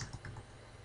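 Quick light key clicks from typing on a computer keyboard, close and faint against a low steady hum.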